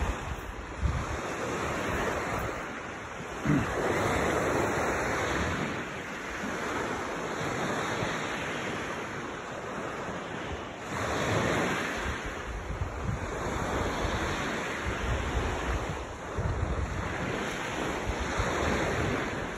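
Ocean waves wash in steadily with a continuous roar of surf, mixed with gusting wind buffeting the microphone.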